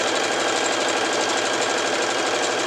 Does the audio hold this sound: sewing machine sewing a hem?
yes